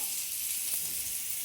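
Oil sizzles on chicken cooking on a hot clay roof tile for a traditional Konkan dish, a continuous close, even frying hiss with no talking.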